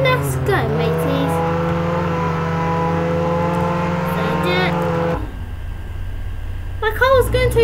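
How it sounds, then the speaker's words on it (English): A car in the Roblox game Jailbreak drives fast, its engine a sustained, loud droning whine with steady tonal harmonics that cuts off partway, leaving quieter game sounds while a voice talks over it. "My car was going too fast."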